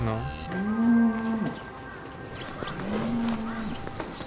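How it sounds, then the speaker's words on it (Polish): Cows moo in a field, two long drawn-out calls a couple of seconds apart, fairly close, with faint rustling and outdoor background between them. "Nie strasz krów."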